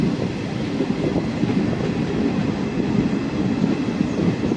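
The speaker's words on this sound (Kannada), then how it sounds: "ಇಲ್ಲಿ ಇದು ಸ್ಟೇಷನ್ ಹತ್ರ ನಮ್ಮ ಗಾಡಿ ನಿಲ್ಲುತ್ತಿದೆ" Indian Railways train rolling along the tracks near a station on the Dandeli–Alnavar route, a steady loud rumble with faint wheel clatter, heard close from on board with no talking.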